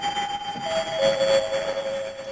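A synth tone run through a redux bit-crusher at the end of its effects chain holds a steady pitched note that steps down midway, with a gritty, buzzy digital texture and no voices.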